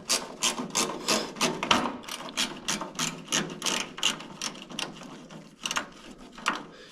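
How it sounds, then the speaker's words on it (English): Ratchet wrench working a nut loose on the eyebrow molding of a 1964 Chevrolet Impala, giving quick, close, repeated clicking bursts in an irregular back-and-forth rhythm. "the nut gets to the point where it just turns back and forth and doesn't overcome the ratcheting action at the end of the wrench"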